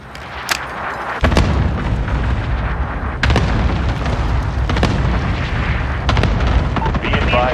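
Booming explosions from an allied cluster strike in Call of Duty: Modern Warfare, heavy low rumbling blasts and cracks rolling one after another at moderate distance, with radio-style voices talking over them.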